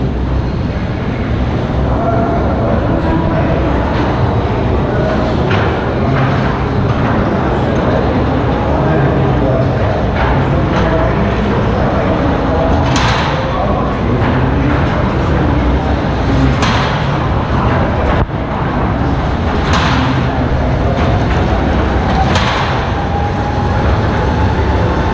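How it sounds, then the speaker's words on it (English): Steady loud rumble and rattle of London's underground Mail Rail postal railway train running through a tunnel, with occasional metallic squeals and clanks, continuous throughout. "You're about to explore some of London's hidden underground postal railway."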